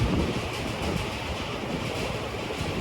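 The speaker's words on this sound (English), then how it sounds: "it's going to get a little loud in here because I got a giant industrial fan behind me" A giant industrial fan runs in a hot garage, giving a loud, steady broadband roar like rushing wind that fills the space without a break, with no voices over it.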